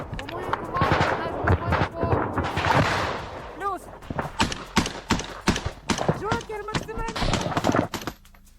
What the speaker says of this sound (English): the Bradley opens up with covering fire from their 25mm chain guns